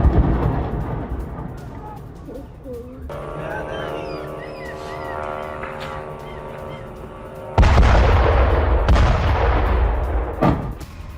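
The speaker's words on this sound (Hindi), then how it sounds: "रिहायशी इलाके में यूक्रेन का ड्रोन अटैक, ड्रोन टकराने के बाद हुआ जोरदार धमाका।" Loud explosion from a Ukrainian drone strike on a residential area of Moscow, a sudden heavy blast that breaks in abruptly after a stretch of news-broadcast tone and then trails off into rumbling, crackling noise.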